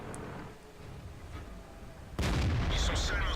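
Tank cannon firing in a World of Tanks-style battle replay featuring an ST-1 or FCM 50t, a single sudden loud boom after a quiet rumbling stretch, ringing on briefly.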